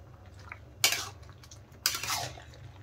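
Two scraping strokes of a spoon stir tomatoes stewing in their own salted juices in a pot, set against a quiet low background with no voices.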